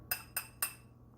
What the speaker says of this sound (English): Now stir again for 1 second.